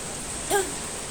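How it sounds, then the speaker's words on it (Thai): Heavy rain from a tropical storm in Japan makes a dense, even hiss of falling water across the short stretch, with a brief louder splash near the middle and no voices. "ฝนตกนะคะที่จะแปลนตกทั่วฟ้าเลยนะคะอานุมันเป็นพายุโซนร้อนนะคะ"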